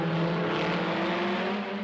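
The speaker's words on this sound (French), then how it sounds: "Parmi les concurrents français, les Renault Alpine type A210." Renault Alpine A210 race car with its Gordini 1300 cc engine, a steady loud engine drone holding a sustained tone for a couple of seconds with no voices.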